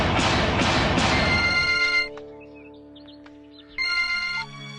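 A telephone rings with a bright electronic tone in a horror film scene, repeated ringing bursts that pause and then start again, loud and close.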